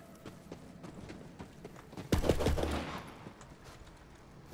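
Gunfire in the video game Borderlands 3 erupts in a brief loud burst of rapid shots midway, ringing out over a quiet background of faint tapping.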